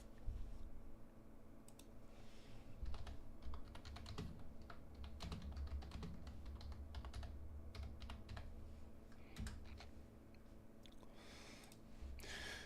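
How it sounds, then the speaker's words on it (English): Rapid, steady typing on a computer keyboard, close and quiet, with irregular clicks and clustered keystrokes running continuously and no talking. "Today I'm trying to like keep typing in the little chat."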